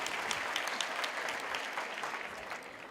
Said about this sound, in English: And with that choir, you deserve a round of applause.